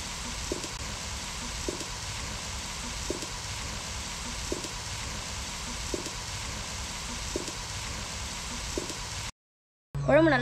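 A pot of Tamil-style mutton kuzhambu boiling on the stove, steady bubbling hiss with soft regular pops, continuing evenly until it cuts off abruptly near the end.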